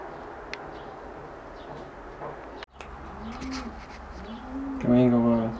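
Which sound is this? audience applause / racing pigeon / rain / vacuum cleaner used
racing pigeon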